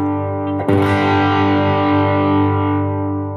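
A loud, heavily distorted electric guitar chord is struck and left ringing, its fuzzy sustain slowly fading with no talking.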